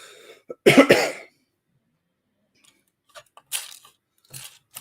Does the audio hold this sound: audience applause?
no